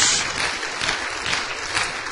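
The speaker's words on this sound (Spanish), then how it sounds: "Dale un aplauso al Señor." Church congregation applauding during a sermon, dense steady clapping at moderate level for a couple of seconds.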